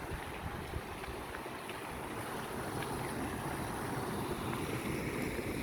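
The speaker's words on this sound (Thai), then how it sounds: "ความแรงของน้ำนี่มันพุ่งแรงมากนะคะ เห็นไหมคะนี่ไหลเป็นน้ำตกเลย" Strong, continuous rushing water roars loudly and evenly, like a waterfall nearby, with some wind buffeting mixed in.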